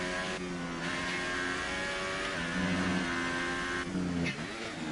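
A race car in a PS4 racing game heading out onto the track on soft yellow-walled tyres, a steady loud engine drone that shifts pitch through gear changes, with no voices.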